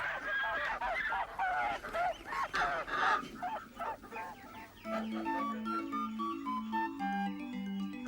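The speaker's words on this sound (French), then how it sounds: "Pato, le chien de la ferme, se livre à son jeu préféré, qui est d'effrayer sans ménagement toutes les volailles de la basse-cour" Farmyard poultry, geese and hens, squawk, honk and cluck in a frantic, overlapping burst as the farm dog chases them, then fade as a bright, plinking melody takes over.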